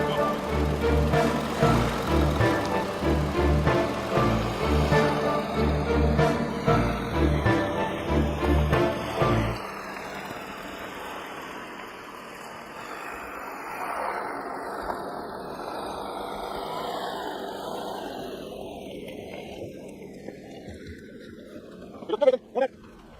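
A 2014 Volkswagen Touareg TDI diesel engine labours up a steep off-road hill in the Colorado Rocky Mountains, a loud rhythmic pulsing drone for about nine seconds that fades into quieter rumble, with a few sharp knocks near the end.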